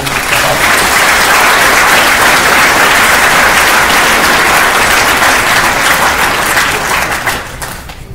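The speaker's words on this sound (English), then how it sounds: "Please join me in a well-deserved round of applause for these instructors." A large audience at a military ceremony applauds instructors, loud, dense and continuous clapping close by that holds steady before tapering off in the last second.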